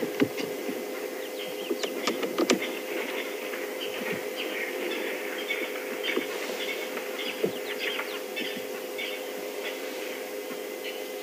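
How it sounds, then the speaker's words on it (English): Francolins and a grey go-away bird call in a quiet African bush setting on a morning safari drive, giving scattered, fairly distant calls over a steady low ambient hum. "We've got a couple of Francolins calling, a grey lurie or grey go-away bird calling."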